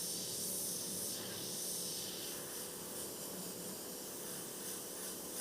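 Steady, soft hiss of an airbrush spraying paint onto a t-shirt, continuous and even throughout, close and without any talking.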